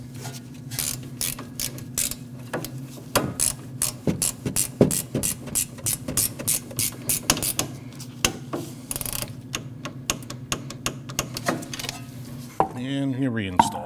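A ratchet tightens the brake line bracket bolt on a 2014-2023 Jeep Cherokee during rear brake work. Repeated bursts of crisp, close pawl clicking run over a steady low hum, with no speech.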